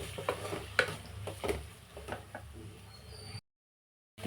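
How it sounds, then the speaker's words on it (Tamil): Egg stirred into brinjal in a pan: soft, close sizzling under a series of light scraping strokes from the stirring, cutting out to silence near the end and then briefly resuming. "முட்டை ஊற்றி நல்லா கிளறிக்குவோம்"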